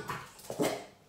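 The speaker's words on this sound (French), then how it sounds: "Si vous entendez du bruit, c'est mon chien qui s'éclate avec son jeu." A dog whimpers and gives short yelping barks while playing with a toy indoors, two or three close vocal bursts within about a second, moderately loud with no talk.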